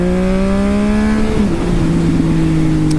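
A Triumph Speed Triple S motorcycle fitted with an SC Project exhaust accelerates hard and loud, its engine note climbing steadily before a brief dip at a gear change and a renewed pull.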